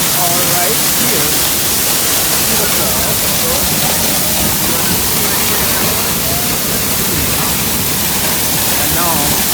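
Looking Glass Falls near Asheville, North Carolina, heard from behind the falling water: a loud, constant, full-bodied roar of the waterfall that holds unbroken throughout.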